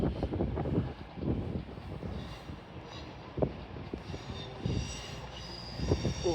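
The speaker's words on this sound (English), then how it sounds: "Arrived in now, just 12:36, cross-country service from Birmingham New Street to Edinburgh." A CrossCountry passenger train from Birmingham New Street to Edinburgh pulls into York station, its wheels giving soft rumbling clunks and light squeals, with wind buffeting the microphone.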